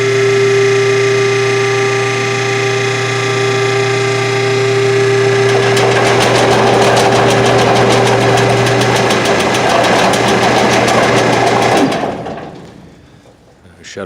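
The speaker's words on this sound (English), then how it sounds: "You can see the elevator is rising. It rattles a little bit near the top." An old mill freight elevator rises with a steady motor drone and mechanical knocking, rattling near the top before the power cuts and the noise drops away, with a voice talking over part of it.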